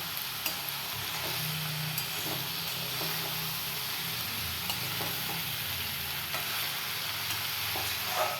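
Large chunks of potato are stirred into an egg curry frying hard in a pan. A loud, continuous sizzle and hiss carries throughout, with soft scraping and knocks from the stirring and no voices.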